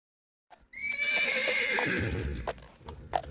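A horse whinnies loudly and at length, its neigh trailing off, followed by a few scattered hoof thuds and clops.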